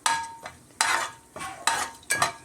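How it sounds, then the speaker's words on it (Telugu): Cinnamon sticks and cardamom pods frying in a pan while a spoon stirs them, giving close scraping and clinking strokes in an uneven rhythm, with no talk. "దాల్చిన చెక్కలు 2, ఇలాచీలు 2 వేసుకుని కొంచెం ఫ్రై చేయాలి."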